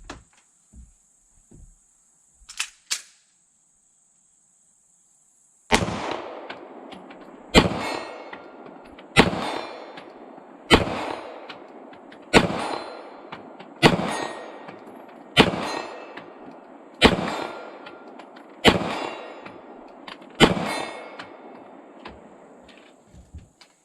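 Sig P226 Legion 9mm pistol fired at a 40-yard steel plate: about ten loud sharp shots at a steady pace, each followed by a faint metallic ring, after a few quiet clicks of handling.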